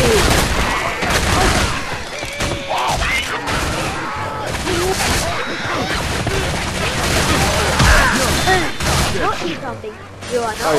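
Rapid gunfire in the video game Left 4 Dead, with dense bursts of shots and crashes in a chaotic fight as players talk over the action.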